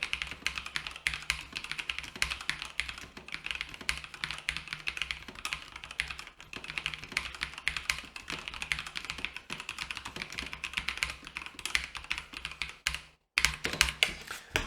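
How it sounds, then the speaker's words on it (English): Someone types steadily and close up on a Logitech keyboard with linear red mechanical switches, making a dense stream of light clacks, with a brief pause near the end before typing resumes. "we can actually hear not the keycaps, but the mechanical switches and Longhue red ones."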